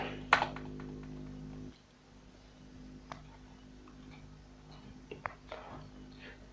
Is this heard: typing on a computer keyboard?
yes